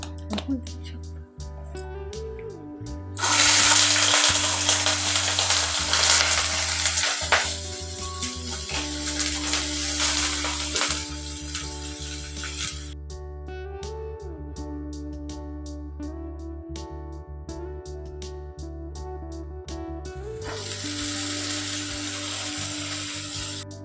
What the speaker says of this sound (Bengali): পেঁয়াজ এবং গাজর হালকাভাবে ভেজে নেব আমি এখানে সর্ষের তেল ব্যবহার করেছি